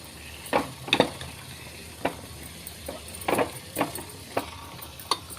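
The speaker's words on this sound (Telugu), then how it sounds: "బాగా కలపాలండి" Ingredients for Guru Nanak prasadam being stirred and mixed in a pan, with irregular soft scraping strokes and light sizzle-like clicks spaced about a second apart, close and fairly quiet.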